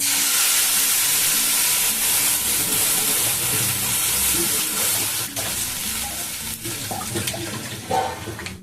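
Milk pours into a hot pan of fried vermicelli, a loud rushing, hissing sizzle that gradually eases into softer bubbling with a few stirring knocks, close up, with no talk.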